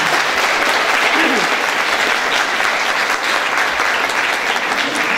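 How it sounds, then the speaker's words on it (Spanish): Dense, loud applause from a crowd at a Women's Day celebration in Sutatausa, sustained without letup and filling the space, with a few faint voices mixed into the roar. "un aplauso"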